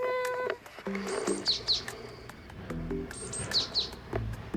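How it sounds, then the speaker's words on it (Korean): Small birds chirping and tweeting in repeated short bursts on Jeju Island, fairly clear over a quiet outdoor background, with no talking. "새소리 들리시나요?"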